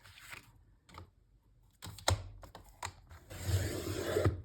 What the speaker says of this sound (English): we're going to cut another one about the same size